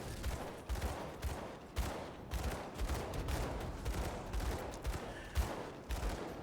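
Enemy gunfire in the action RPG Grim Dawn during a dungeon fight against undead, heard as a steady run of rapid, rumbling shots that keep going without pause at moderate loudness.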